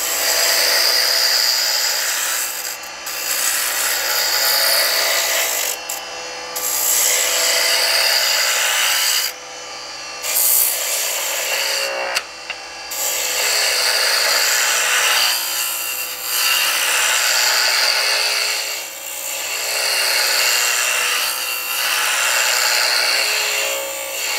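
A wooden honey dipper is turned on a lathe while a taper is cut into its center: a loud, continuous whirring hiss of the tool scraping spinning wood, broken by several brief pauses and changes in pressure.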